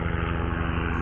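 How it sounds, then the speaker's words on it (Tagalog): A helicopter flying overhead near Manila Bay by the Mall of Asia, a loud steady rotor-and-engine drone with a rhythmic low beat that fills the whole moment. "Helicopter!"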